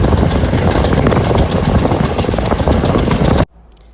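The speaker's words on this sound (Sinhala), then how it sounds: "ඔන්න ඉතින් තඹුත්තේගම සුපර්මෑන් ට්‍රේන් එකට දැන් නැංගා." Superman train at Tambuttegama station, a loud rumbling engine with rhythmic clatter close by that cuts off abruptly near the end.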